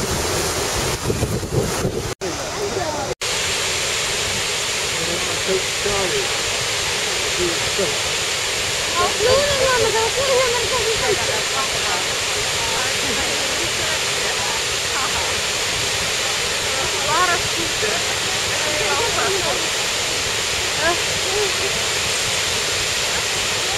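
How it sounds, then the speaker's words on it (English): A big waterfall on a trek in Iceland roars as a steady, loud broadband rush that fills the whole stretch, with wind buffeting the microphone and brief exclamations from people nearby. "Big waterfall."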